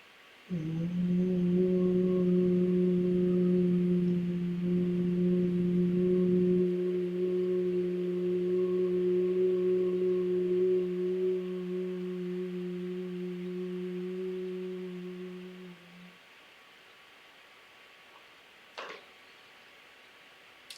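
Sustained nasal humming breath in Bhramari pranayama, a steady low buzzing hum held about fifteen seconds that fades to near silence, followed by a brief faint click.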